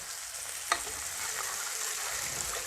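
Tomatoes sizzle steadily in hot oil in a pan for a dal and drumstick-leaf curry, with one brief stirring clink and no talk.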